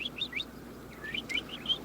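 Small bird chirping in quick bursts of high, bright tweets, two clusters of short calls separated by a brief pause, close and clear over a low background hum.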